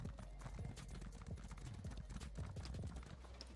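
Hooves of a brown horse mount clip-clop in The Elder Scrolls Online, a quick, regular trotting rhythm of hard thuds that runs steadily throughout, fairly faint and heard alone.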